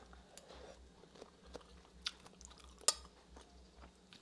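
Quiet, close chewing and crunching while eating rice with pounded cucumber salad, soft irregular bites with an occasional sharper crunch and faint clink of cutlery.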